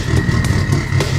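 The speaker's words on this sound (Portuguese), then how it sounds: "deixa eu tentar ligar esse motor" A hotwired car engine in the video game GTA 5 catches and starts with a brief, loud, pulsing rumble.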